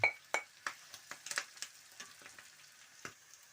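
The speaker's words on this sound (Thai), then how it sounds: "แล้วก็ใส่สับปะรดใส่ ซอส ผัดลงไปครับผม" Rice stir-fried with pineapple and sauce gives a faint sizzle under repeated sharp scrapes and clinks of a utensil against the pan, arriving in an irregular rhythm.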